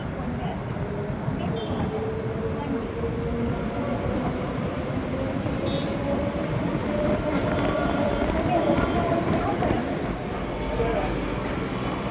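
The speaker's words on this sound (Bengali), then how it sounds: "এই ট্রেনটা যাবে তাম্বারাম থেকে চেন্নাই বিচ।" A Chennai suburban train runs from Tambaram toward Chennai Beach, heard from inside as a steady loud rumble and rattle of the moving carriage, with voices talking faintly underneath.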